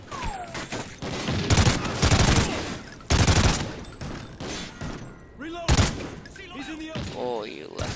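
Call of Duty Ghosts gunfire, several sharp loud bursts of shots and thuds, with someone talking between and over them.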